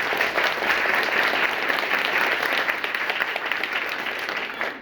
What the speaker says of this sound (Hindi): एक बार दिल खोल के ताली बजाइए